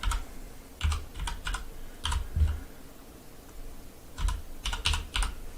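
Someone types a web address on a computer keyboard in short bursts of quiet key clicks separated by pauses, with no talking.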